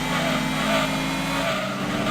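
A Ford Mustang's 4.6-liter V8 roars continuously in Gran Turismo 2, a loud sustained engine drone held steady at speed for a couple of seconds, with no voices.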